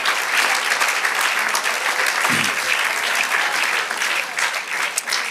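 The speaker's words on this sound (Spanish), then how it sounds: "Dale aplauso al Señor" Dense, sustained applause from a church congregation fills the space evenly for the whole stretch, loud and continuous with no pauses.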